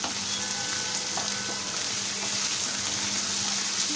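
Tomato and fenugreek leaf curry with chili powder being stirred in a pan, a steady bubbling sizzle under soft scraping of the spoon, continuous and close.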